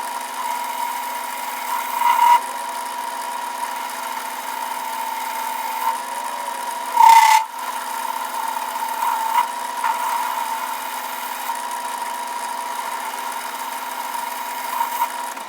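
A metal lathe turns on power feed while machining a part for a 1953 Chevy 210 hardtop K-member. It gives a steady mid-pitched hum with a constant whine, plus a couple of brief louder bumps, running alone without speech.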